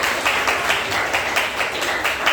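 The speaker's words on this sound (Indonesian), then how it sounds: "Iya, tepuk tangan dulu mereka" Students clapping in a classroom, a steady dense patter of many hands held at an even level for the whole stretch, with no talk over it.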